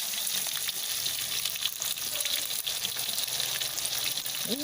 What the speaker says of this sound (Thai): เราทอดหมูแดดเดียวที่เขาซอยไว้ตะกี้นอ ลงไปทอดในน้ำมันร้อนๆเลยนะครับ